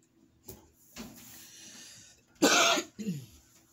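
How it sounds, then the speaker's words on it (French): A person coughs several times nearby, a few short coughs followed by a louder harsh burst and a final throat-clearing cough. "alors que je tousse"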